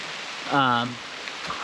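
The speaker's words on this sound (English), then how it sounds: "Hopefully this rain doesn't get too loud and you can still hear me." Steady rain hisses outside as a constant wash of noise, with a brief voiced sound rising over it partway through.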